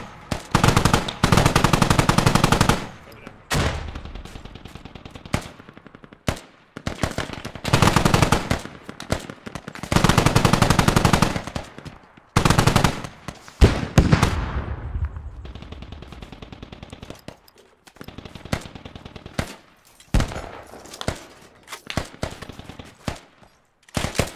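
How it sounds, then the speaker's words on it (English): Heavy machine gun fire in the video game Squad, long loud bursts and short stutters separated by brief pauses, close and dominant, with scattered distant shots between bursts. "Keep shooting."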